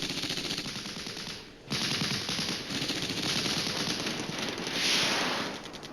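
Gunfire rattles in the wargame Flashpoint Campaigns Red Storm during a house-to-house urban fight, with sustained machine-gun bursts at moderate level and a brief dip before the firing resumes.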